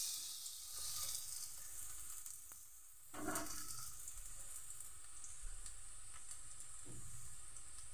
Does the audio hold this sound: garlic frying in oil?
yes